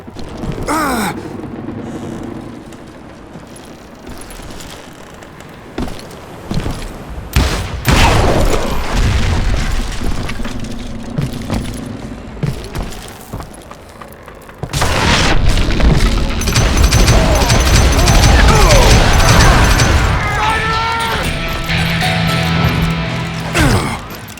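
Dynamite charges go off in the Western shooter game Call of Juarez: Gunslinger, with heavy booming blasts and rolling debris rumble, loud and close, in several bursts across a dense stretch of game sound effects.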